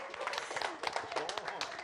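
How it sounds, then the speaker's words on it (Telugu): Brief, fairly faint burst of audience applause and clapping at a movie pre-release event, dense and continuous for under two seconds. "ఒక్కసారి గట్టిగా చప్పట్లు."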